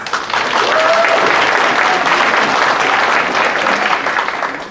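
An audience at a candidate forum in DeSoto applauds the candidates, a full, sustained wash of clapping that swells quickly and holds steady, with a brief voice or whistle near the start.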